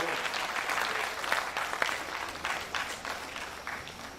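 Sustained applause from a conference audience of polytechnic registrars in Nigeria, greeting Lagos State governor Babajide Sanwo-Olu: a dense, steady wash of clapping with a few sharper individual claps standing out, moderately loud throughout.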